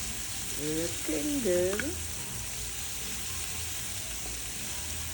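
Vegetables including cabbage, carrots, onions and mushrooms sizzle steadily in olive oil, with a brief clatter of stirring early on and a short spoken remark over the frying.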